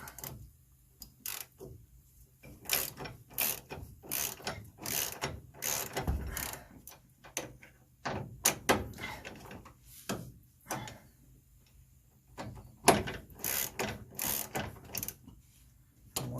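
A ratchet works bolts on a manual steering box being installed in a G-body car, giving bursts of quick clicking and metallic knocks in uneven runs with quiet pauses between them.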